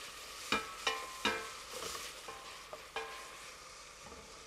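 Onion and garlic frying in a pan, with a quiet continuous sizzle under a series of sharp utensil taps and scrapes spaced about half a second apart, close and without speech.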